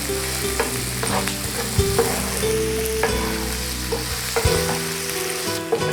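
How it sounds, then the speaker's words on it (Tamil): Onion, ginger and asafoetida frying in hot oil for a Tamil savoury kozhukattai dish, a steady close sizzle with repeated scraping stir strokes, heard alone with no talk. "வெங்காயம் போட்டுக்கலாம் பெருங்காயம் போட்டுக்கலாம் நல்லா பொன்னிறமாக வறுத்துக்கலாங்க"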